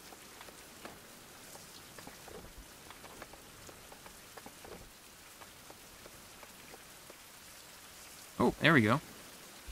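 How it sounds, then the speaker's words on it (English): Steady rain patters on surfaces in a survival video game, a soft constant hiss with scattered drops, while someone speaks briefly near the end. "I'm being rained on."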